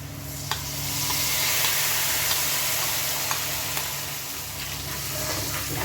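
Ginger garlic paste sizzles in hot oil for a Bengali fish curry, giving a steady close frying hiss with small crackles and pops and occasional stirring scrapes throughout.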